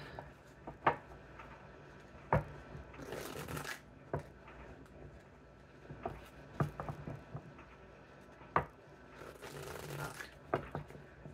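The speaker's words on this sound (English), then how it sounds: "One more shuffle for Leos." Tarot cards being shuffled by hand in a reading, a few quiet riffling bursts with soft snaps and taps between them, close and low in level, no talk.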